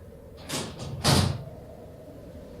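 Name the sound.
door closing behind the narrator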